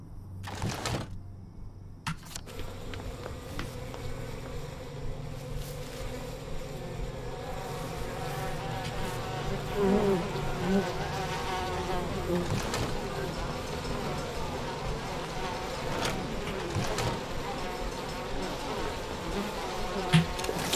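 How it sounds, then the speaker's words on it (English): Bees buzz steadily in the We Happy Few video game, a close, continuous droning hum that grows slightly louder over time, with a few clicks and light talk. "Hold V to harvest the bees."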